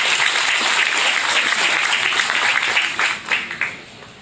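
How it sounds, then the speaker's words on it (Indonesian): Audience applause at an Indonesian political party declaration event, a dense steady wash of many hands clapping close by that thins into scattered claps near the end. "mohon tepuk tangan untuk beliau"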